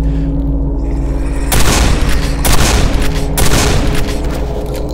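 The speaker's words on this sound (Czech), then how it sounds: "3 rány z brokovnice a problém vyřešen" Shotgun blasts fired at a zombie in the game Quake 4, three loud booming shots spaced about a second apart, each followed by a short rumbling decay, with no talk over them.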